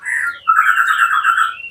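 A white-rumped shama (murai batu) calls loudly at close range, a short whistled phrase followed by a longer, sustained warbling note, clear and alone.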